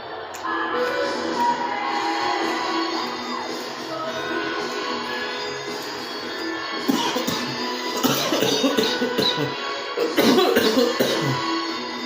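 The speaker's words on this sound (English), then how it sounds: "I was coughing" Several coughs burst out over the steady crowd hum of an NBA 2K15 basketball game, with a couple of louder fits near the end.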